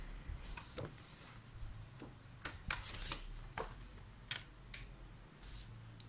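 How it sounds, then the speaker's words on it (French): Decorative paper being cut for a photo album, a series of quiet, sharp snips and papery clicks in an uneven rhythm, close by in a still room. "je suis venue couper mon papier décor"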